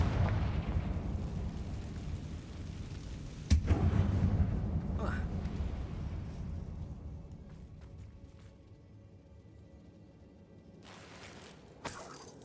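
A Confringo explosion spell in Hogwarts Legacy, cast inside an abandoned mine: one sharp blast rings out over a low mechanical rumble, then fades into quiet, and a second fainter burst comes near the end; a voice speaks early on.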